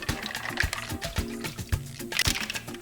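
Clams are drained from their cooking water into broth, giving wet clattering knocks of shells against a pot with trickling and sloshing liquid in short, irregular bursts.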